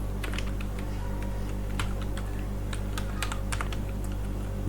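Fast, steady typing on a computer keyboard, close and clear, with keys clicking in uneven bursts over a constant low hum.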